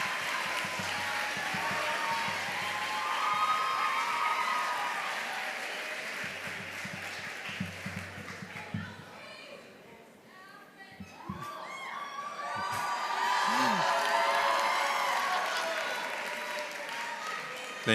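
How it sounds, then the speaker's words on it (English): Crowd applause and cheering from a school audience at a State of the School assembly welcoming a student government vice president, with shouts rising and falling over about eighteen seconds. "please give a round of applause to the myth and the legend"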